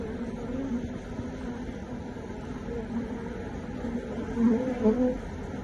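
Many honey bees buzz continuously up close, a dense, droning hum that swells slightly toward the end.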